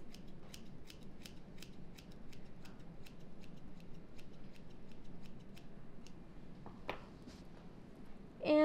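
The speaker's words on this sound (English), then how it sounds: "taking the scissors in a small upward motion, doing a rough cut at first" Scissors make a steady run of crisp, rhythmic snips while rough-cutting and trimming a styled wig, close and distinct over a soft background hum, ending with a brief louder sound.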